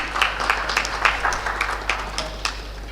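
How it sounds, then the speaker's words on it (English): Scattered hand claps sound at a railway infrastructure conference for about three seconds, sparse and uneven, like a small audience clapping loosely over a steady low hum. "Can we please have a big round of applause?"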